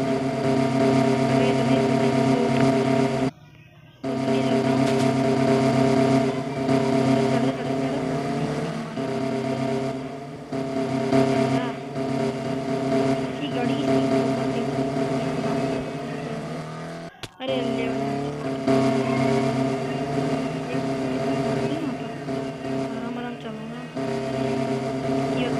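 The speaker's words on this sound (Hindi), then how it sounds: "भाई, यहाँ से गाड़ी निकालना बहुत हार्ड है।" Engine of a tractor in a video game, running steadily as it tries to pull out of a tight spot, with someone talking over it throughout and two brief dropouts.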